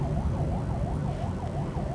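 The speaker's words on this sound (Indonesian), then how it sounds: "oh, ada ambulan." An ambulance siren wails through Jakarta traffic, its pitch rising and falling in a steady repeated cycle over continuous road rumble, moderately distant and with no talk.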